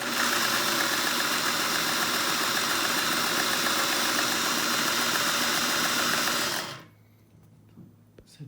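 A 1950s Singer 401A sewing machine stitches a wavy line at a fast, even, rattling whir for about six and a half seconds, then stops sharply, leaving faint clicks.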